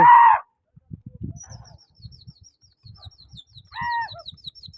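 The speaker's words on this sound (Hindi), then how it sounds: "दूसरी फरी संगत माशाल्लाह कबूतर उड़ रहे हैं" Pigeons take flight at a pigeon-flying contest, soft fluttering wingbeats pulsing close by, with a few sharp chirps and a faint high twittering.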